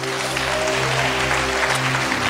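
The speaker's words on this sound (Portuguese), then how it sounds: "Dá um aplauso ao Senhor em nome de Jesus" Applause from a church congregation during a sermon, a steady wash of clapping over a continuous low musical drone from a keyboard or organ, lasting a couple of seconds without speech.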